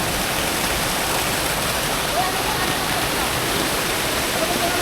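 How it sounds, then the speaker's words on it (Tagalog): A hidden waterfall and river in Barangay Halang, Lipa City, Batangas, a constant loud broadband rush of falling and flowing water with no break. "Napakaganda naman ng ilog."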